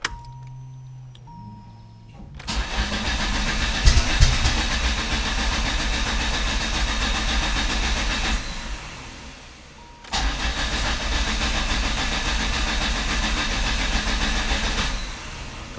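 A Plymouth Sundance 2.2 turbo engine, with an ignition fault, cranks loudly in two long attempts separated by a short pause, a steady close whirring churn without catching.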